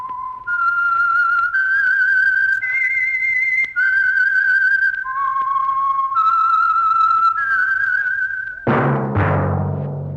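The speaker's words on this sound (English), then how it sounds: "That whistle is your signal for the Signal Oil Program, The Whistler." A radio mystery program's signature whistled tune plays alone: a clear, high human whistle moving through a short melody of held notes, ending with a sharp orchestral or percussive hit.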